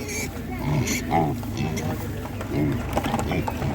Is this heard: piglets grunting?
yes